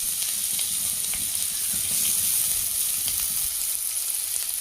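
Onions go into hot oil with cumin for a paneer curry, giving a loud, dense, unbroken sizzle that holds steady from start to finish, with no talking.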